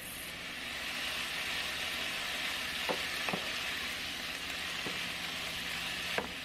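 Onion and carrots cook in a pan with a soft, continuous sizzling hiss, punctuated by a few sharp utensil taps.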